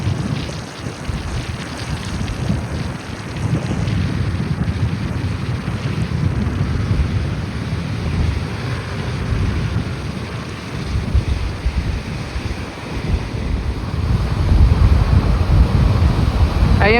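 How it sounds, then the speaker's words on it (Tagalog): Strong, gusting wind roars across the microphone over the heavy crash and wash of rough, whitecapped sea waves at Manila's Dolomite Beach, a loud, continuous outdoor rumble with no talk. "Namumuti-muti yung dagat sa alon at grabe yung lakas ng hangin"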